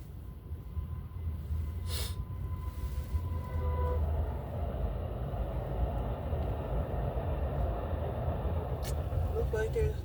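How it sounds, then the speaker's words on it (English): A city tram rolls along a street at night, a steady low rumble with faint squeaks building over about ten seconds, with no voices heard. "the train passing through the street."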